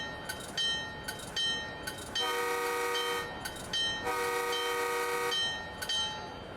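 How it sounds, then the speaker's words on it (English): The locomotive bell of an HSP46 in Train Sim World 5 clangs in a steady repeating ring, with bursts of a loud horn-like tone layered over continuous rail noise and no talk. "And here is the sound of the bell."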